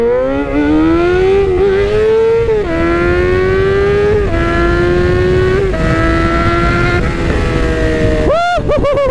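A motorcycle climbs a hill under hard acceleration, its engine loud and close as the revs rise and fall through several gear changes, with a sharp rev burst near the end.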